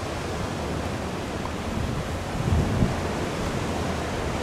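Ocean waves beside the Galle Face Hotel in Colombo, Sri Lanka, a loud steady wash of surf mixed with wind, swelling briefly in the middle before settling back, with no talking.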